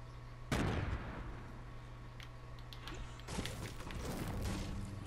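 A grenade goes off in a video game, a sudden loud boom followed by a fading rumble, then a second rough burst of noise a few seconds later over a steady background hum.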